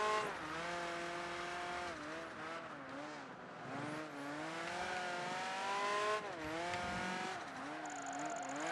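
Ferrari F50 engine in Project Gotham Racing 3, a high revving wail that rises and dips steadily through gear changes and corners, loud and close throughout with a brief lift near the end.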